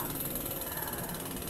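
Machinery running at a construction site breaking cement, with a dense, constant mechanical rattle and clatter, loud and unbroken throughout.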